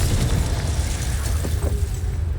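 The Confringo fire-blast spell in Hogwarts Legacy detonates as a loud, close explosive boom with a deep rumbling roar that fills the whole short moment.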